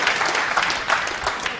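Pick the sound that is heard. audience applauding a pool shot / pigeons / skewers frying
audience applauding a pool shot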